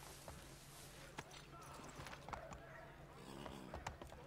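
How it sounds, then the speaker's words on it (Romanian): A horse's hooves clip-clop in Assassin's Creed III gameplay, a faint, steady rhythm of soft hoofbeats under a wash of low in-game ambience. "te am găsit un cal aici"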